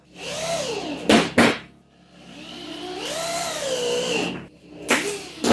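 A power drill whirs in two runs, its motor pitch climbing and dropping as it drives screws into an off-grid bow-roof outhouse under construction, broken by sharp knocking bursts between runs. Close and fairly loud.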